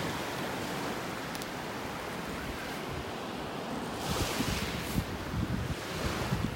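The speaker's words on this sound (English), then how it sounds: "So peaceful listening to the waves." Steady roar of ocean surf washing onto a beach in North Naples, Florida, with waves swelling louder toward the end and some wind noise on the microphone.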